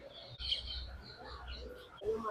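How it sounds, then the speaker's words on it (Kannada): Several birds calling and chirping in the background at Yediyur Lake, Bangalore, with a low rumble of ambient noise underneath and a brief break partway through. "ನೋಡಿ ಎಷ್ಟೊಂದು ಪಕ್ಷಿ ಕೂಗ್ತಾ ಇದೆ"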